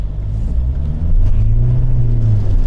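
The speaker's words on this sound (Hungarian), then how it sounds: "Akkor már szépen kipörög a kerék" A 2021 SsangYong Grand Musso pickup spins its wheel, a loud, close engine rumble rising in revs over a steady low drone.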